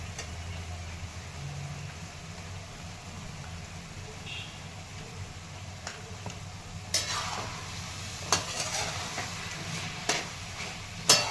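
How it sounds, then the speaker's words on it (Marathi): Chutney is stirred into spring onion greens frying in a pan, giving a low continuous sizzle with a few sharper scraping strokes of a spatula near the end. A faint voice is heard briefly. "चटणी टाकून मिक्स करून घेते"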